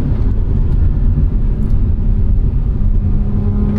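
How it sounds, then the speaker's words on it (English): Naturally aspirated sports car engine revving hard under acceleration, a loud, steady, rumbling drone heard from inside the car that holds for several seconds with no talking. "God, I love naturally aspirated high revving motors."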